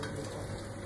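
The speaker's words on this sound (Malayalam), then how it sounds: "കടുക് ഒന്ന് പൊട്ടട്ടെ." Mustard seeds crackle and pop in hot coconut oil for a prawn thoran, a steady dense sizzle with small bursts, close and constant, with no voices.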